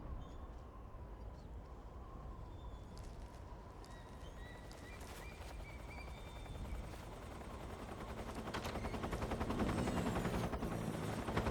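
In a video game, a helicopter's rapid rotor thumping builds slowly and grows louder toward the end. A sharp rattle of gunfire and some scattered clatter mix in over a dense, low, rumbling background. No one speaks.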